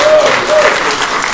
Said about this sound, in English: I think we should all give her a round of applause